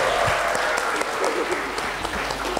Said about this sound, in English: can you give a massive round of applause to Katie?